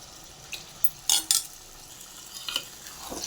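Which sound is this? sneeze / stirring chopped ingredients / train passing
stirring chopped ingredients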